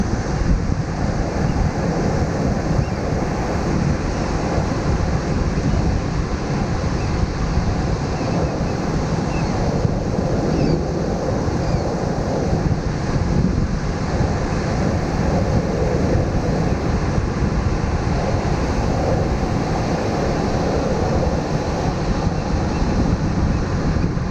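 Ocean surf rolling onto a beach, a steady, loud, broadband wash of breaking waves with gusty wind buffeting the microphone throughout.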